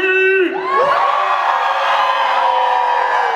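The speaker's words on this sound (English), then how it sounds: "Can you scream?" A concert crowd at a release party screams and cheers loudly after a shouted prompt, a sustained wall of voices that holds steady and close for several seconds.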